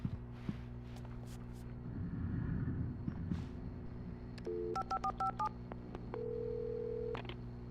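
A short series of electronic keypad tones in the video game Alan Wake Remastered, dialing a phone number in quick uneven steps, followed by a steady held tone, over low ambient hum and a brief rumble.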